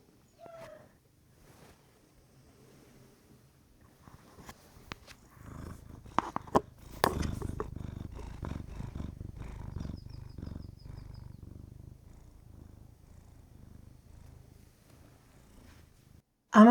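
A pet cat purring close to the microphone, a low continuous rumble that starts after a few quiet seconds and carries steadily on, with light handling noises around it.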